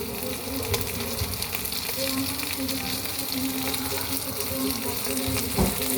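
Ginger garlic paste sizzling in hot oil for a veg biryani or chicken curry, a steady, even frying hiss with faint bubbling crackle that continues throughout at moderate, close volume.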